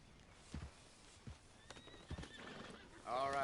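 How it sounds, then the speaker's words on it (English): A horse in Red Dead Redemption 2 gives a loud whinny near the end, preceded by several soft clip-clop hoof thuds at an uneven walking pace, with a voice talking in between. "What the hell did you pay for that horse, anyway?"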